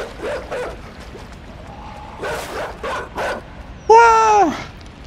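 In the video game Inside, a dog gives a few short yips and barks amid game ambience, ending in a louder drawn-out whimpering howl.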